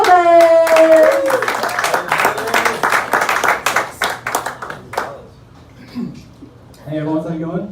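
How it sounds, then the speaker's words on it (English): An open mic comedy crowd claps for a comedian, loud close hand claps that thin into scattered claps and die away, with a cheer at the start and a voice talking near the end. "I like the sound of your applause so much, we're just going to keep it going"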